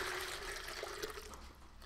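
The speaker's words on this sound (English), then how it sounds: "I'm gonna add a little bit of water to it just to start off." Water pours steadily into a pitcher as a continuous hissing, splashing stream that tapers off slightly toward the end.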